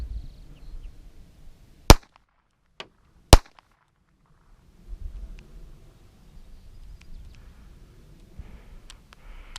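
Raven Arms P-25 pistol fired one-handed, two sharp, loud, close shots about a second and a half apart, then a faint click and quieter handling noises, with no voices.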